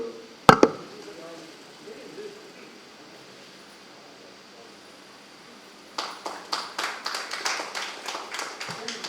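Audience clapping at a shawl-honouring ceremony in a Tamil astrology gathering, starting after a single sharp knock and building into a steady patter of hands that continues to the end, moderately distant.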